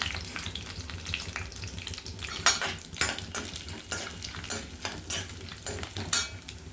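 Cumin seeds fry in a pan for a bottle gourd curry, with a soft steady sizzle and repeated scraping clinks of a spoon stirring against the metal, close up and with no voices.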